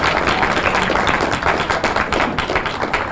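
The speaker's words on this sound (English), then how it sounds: "Can we give everyone another round of applause?" An audience at the Camden Rising Back on Track luncheon in 2017 gives a round of applause, with steady close-up clapping from many hands throughout.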